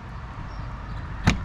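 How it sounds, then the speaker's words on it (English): The door of a 2022 Aliner Classic camper trailer opens with a single short, sharp click or latch near the end, heard close over a faint steady background hum. "As we open the door and go in"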